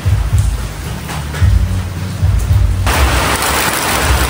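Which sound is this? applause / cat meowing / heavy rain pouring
heavy rain pouring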